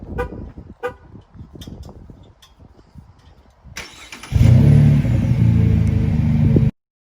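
Quiet thuds and handling noises give way to a loud, deep rumble from a 2017 Chevy Colorado LT pickup's aftermarket exhaust that revs up and holds steady before cutting off.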